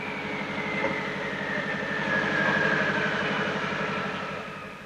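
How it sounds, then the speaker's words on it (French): A Renault R5 Turbo engine idles at low rpm with a steady throbbing rumble and a faint whine, smooth and even, no voices. "Écoutez la voiture au ralenti,"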